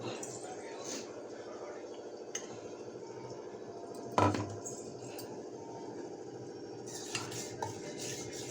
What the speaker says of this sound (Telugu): ఈ మిక్సీ పట్టింది ఈ కట్టులో కలిపేసుకోవాలి మొత్తం